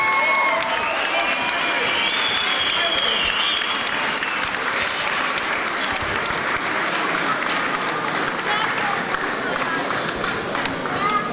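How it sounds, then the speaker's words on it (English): Sustained applause from a large crowd at an MMA event, steady and loud throughout with dense clapping and some cheering mixed in. "round of applause for both these fighters starting the evening off"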